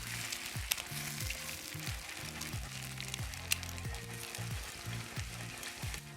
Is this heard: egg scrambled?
yes